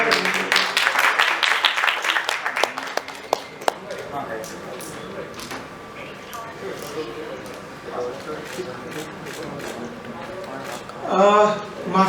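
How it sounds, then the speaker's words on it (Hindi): A crowd at the launch of the 'Ae Zindagi Gale Laga Le' show, a birthday event, bursts into loud, dense clapping that thins out after a few seconds, then someone speaks over scattered claps. "आप ए जिंदगी गले लगाने को एक बार जोरदार तालियां बजा के शुरुआत करेंगे"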